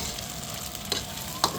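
Ostrich egg frying in a pan, a steady close sizzle throughout with two brief sharp clinks near the end.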